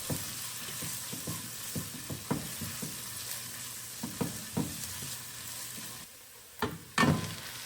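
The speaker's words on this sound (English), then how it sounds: "Start by heating up the olive oil and adding in the onions and garlic" Onions and garlic frying in olive oil for a chili, a steady close sizzle broken by repeated spoon scrapes and taps against the pot, ending in a couple of louder clatters.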